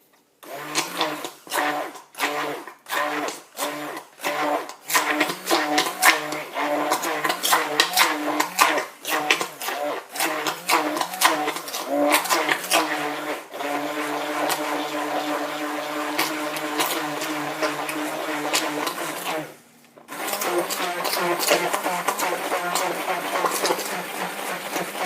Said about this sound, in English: let me use the stick blender a little bit here.